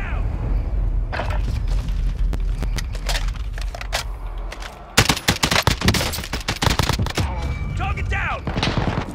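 Gunfire in a shooter video game: loud bursts of rapid automatic shots and sharp single cracks, sparse at first, then dense volleys with a boom partway through, continuing to the end.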